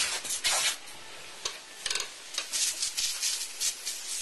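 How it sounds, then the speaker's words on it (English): A garden hose sprays water onto a freshly cut Blackheart sassafras log outdoors, giving bright hissing bursts that start and stop in irregular spurts, fairly close and moderately loud. "Hey Chris, would you mind hitting this with the hose?"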